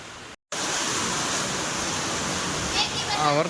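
A heavy downpour in Ingorala makes a dense, loud wash of rain noise after a brief silent gap at the start, with a faint voice surfacing near the end.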